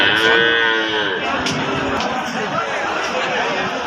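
A loud, drawn-out moo from a young Sahiwal bull rises and falls at the start, with a murmur of people talking and crowd chatter at a cattle market in the background.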